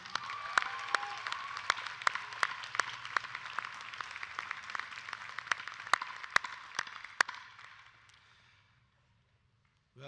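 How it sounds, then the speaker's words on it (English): Applause from the audience at a Rowan University commencement ceremony, with steady clapping and sharp individual claps standing out, fading away into near silence just before the end. "so let's give them another round of applause"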